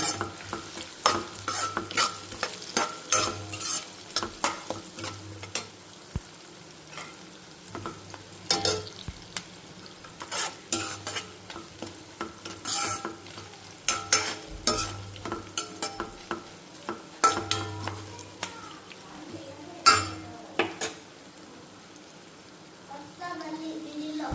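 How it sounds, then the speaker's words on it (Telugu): Onions with turmeric frying in a pan for gongura dosa, a steady sizzle broken by repeated spoon scrapes and stirring clatters, with occasional soft voices in the background. "ఆనియన్స్ అయితే కొంచెం వేగాలన్నమాట"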